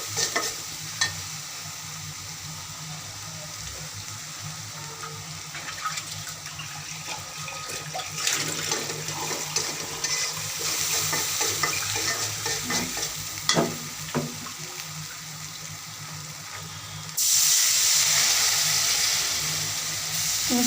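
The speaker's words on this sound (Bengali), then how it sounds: "মশলাটা কষিয়ে নিচ্ছি" Spices with chilli and turmeric frying in oil in a pan for a curry of beans, potatoes, cauliflower and hilsa fish, steady sizzling with repeated stirring scrapes and a rush of water late on.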